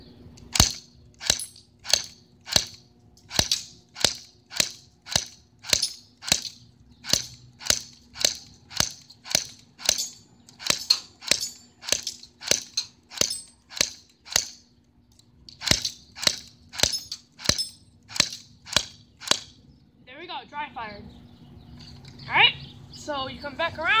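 A GFap 13 airsoft pistol fires on semi-auto: about two dozen sharp, evenly spaced snapping shots in a steady rhythm with a brief pause, outdoors and close, then rustling and movement at the end.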